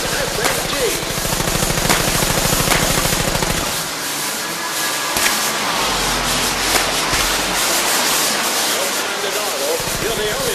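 Rapid SMG gunfire from The American Dream VR game rattles loudly in sustained bursts, packed with clattering mechanical noise and a voice talking over parts of it.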